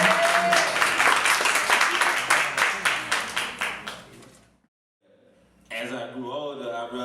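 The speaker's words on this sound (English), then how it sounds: "y'all clap it up and show your love for Steven." An audience at a spoken word poetry event claps for a poet. The rhythmic applause is loud at first and dies away after about four seconds. A brief silence follows, then a voice starts speaking.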